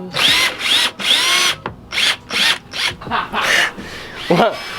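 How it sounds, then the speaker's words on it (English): A power drill revs in short repeated bursts, drilling holes for side skirts on a Mazda Miata, close and loud, with brief pauses between each whirring spin. "While Money is drilling the other holes"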